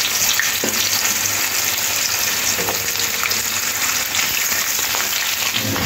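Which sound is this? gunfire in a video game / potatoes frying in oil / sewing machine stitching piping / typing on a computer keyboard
potatoes frying in oil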